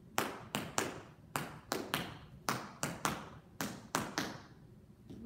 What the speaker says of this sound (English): which is a step ball change.